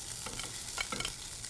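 Risotto sizzles steadily in olive oil in warmed skillets, a continuous frying hiss with a few brief stirring scrapes; close up, with no voices.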